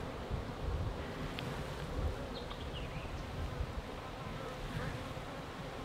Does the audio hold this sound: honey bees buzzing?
yes